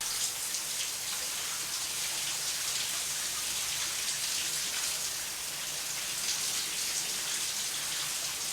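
Shower water pouring in the shower scene from Alfred Hitchcock's Psycho, a dense, even hiss of spray striking a surface, constant and fairly loud for the whole stretch with no voices.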